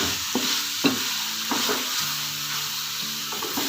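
Chicken and vegetables stirred in a hot pan, a spoon scraping through the sizzling mix in several quick strokes over a steady close frying hiss.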